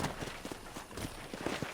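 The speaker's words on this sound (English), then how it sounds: "I picked out a fine horse for you." Horse hooves clip-clop at a steady walking rhythm in Red Dead Redemption, a series of soft, evenly spaced thuds at moderate distance over a low ambient background.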